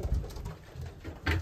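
Racing pigeons cooing nearby in a loft, old hens and late young birds, in soft, low, throaty bursts, two or three coos rising and falling over a quiet background.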